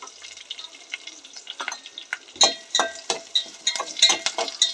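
Curry leaves hit hot oil, giving a run of sharp crackling spits and pops that grows louder and busier after the first couple of seconds and stays close and bright.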